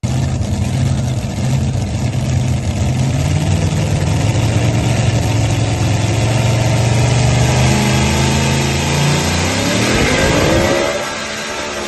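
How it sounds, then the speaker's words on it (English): A two-wheel-drive pulling truck from Nashville, Illinois roars at full throttle in a truck-pulling competition, its loud sustained engine climbing in pitch before it suddenly cuts off near the end. "here comes full throttle 2-wheel drive from Nashville, Illinois"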